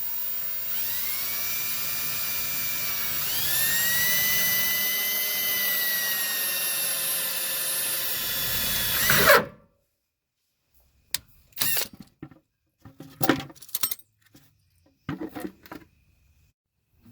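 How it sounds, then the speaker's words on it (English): A power drill whines loudly and continuously for about nine seconds, pitch rising as it spins up while drilling a hole in a vehicle fuel tank, then stops, followed by scattered knocks and clatter. "need to drill a hole in your tank"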